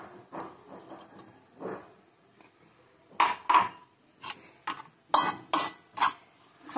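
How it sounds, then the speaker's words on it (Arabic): Lemon juice and about half a small glass of oil being mixed in a bowl, with a series of sharp clinks of a utensil against the bowl, loudest in the second half, between quieter scraping stirs. "نخلط بحال ما هكايا"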